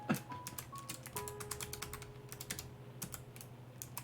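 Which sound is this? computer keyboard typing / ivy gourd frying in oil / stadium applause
computer keyboard typing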